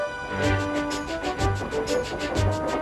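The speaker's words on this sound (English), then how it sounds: "you can still hear the faraway call of an engine's whistle and the clickety-clack of train wheels" Rhythmic clickety-clack of train wheels repeats steadily under a long, steady, faraway engine whistle tone, from the Trainz train simulator game, with a synthesized, game-like quality and no voices.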